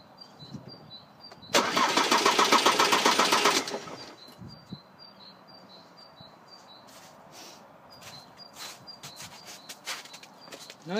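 A diesel car with a Delphi injection pump being tested for hard starting cranks loudly for about two seconds and catches, then settles to a quieter idle, with faint birdsong in the background.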